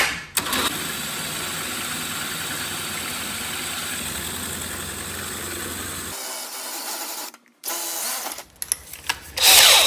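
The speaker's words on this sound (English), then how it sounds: "I'm gonna lower my speed down so I don't want to heat up the drill too much" An electric drill whirs steadily at a reduced speed for about six seconds while working on a John Deere LA130 lawn tractor. It cuts out abruptly, restarts briefly, then ends in short bursts and a loud burst at the end.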